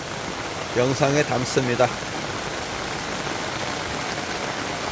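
Steady rain falls on a farm, a constant hiss of drops filling the scene from start to finish, with a voice speaking briefly over it near the beginning.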